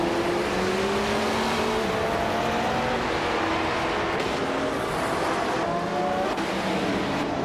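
A 1969 Porsche 908/2 Spider race car engine roars loudly and steadily with rising and falling pitch through gear changes, close by, with no voices.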